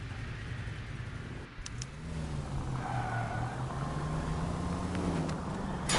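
A car driving in the video game LA Noire, a quiet engine hum that rises as the vehicle accelerates, with a faint tonal whine drifting in pitch over steady road noise.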